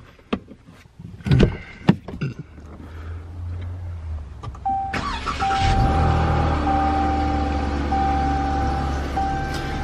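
A 2019 Dodge Challenger V8 engine cranks and starts after some clicks and thumps, then settles into a steady, loud idle with a low rumble and a whining tone.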